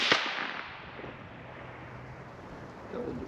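Ruger precision rifle firing Hornady Superformance 168 grain ELD ammunition, a single sharp report at the very start that decays into a long, fading echo; outdoors, moderately loud, no talk.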